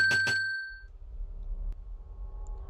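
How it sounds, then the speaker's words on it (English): Bells inside a pinball machine are struck twice in quick succession. The loud metallic dings ring out clearly and fade over about half a second, followed by faint low rumbling mechanical noise. "Pressing the button releases more pinballs, causing the bells to get hit more frequently"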